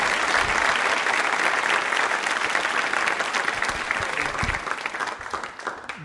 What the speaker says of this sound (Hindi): तालियां जोरों से बजाइए मैम के लिए